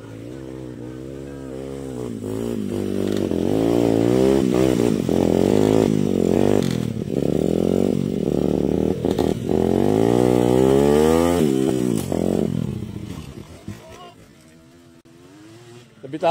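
A motorcycle engine revs hard and repeatedly at close range, rising and falling in pitch, then winds down to a low idle near the end.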